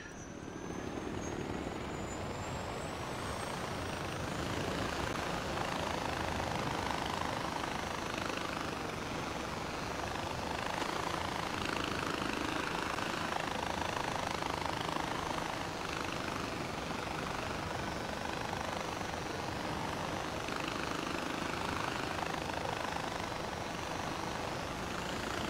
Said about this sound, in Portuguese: Vamos apanhar aqui o nosso helicóptero.